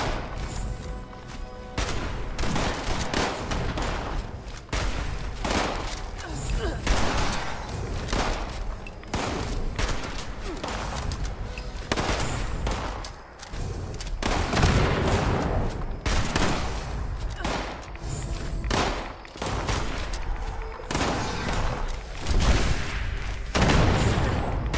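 Sustained bursts of 10mm gunfire in Fallout 76 multiplayer, rapid repeated shots and booms crackling loudly and near for over twenty seconds with little pause and almost no talk.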